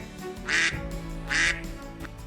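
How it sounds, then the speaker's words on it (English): A duck gives two clear, nasal quacks about a second apart, close and moderately loud. "Duck loves to swim in water."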